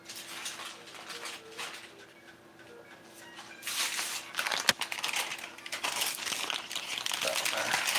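Parchment paper crinkled and shifted across a kitchen work surface while preparing crispy chicken sandwiches and fries, soft rustling at first, then louder bursts of crackling with a sharp tap midway, under quiet talk.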